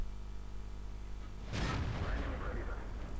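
A heavy tank cannon blast from a KV-1 in a video game erupts partway through, followed by rumbling explosive noise, after a steady mechanical hum.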